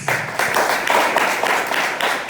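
A church congregation claps to welcome the preacher, brisk and fairly close, with a roughly rhythmic pulse through a short burst.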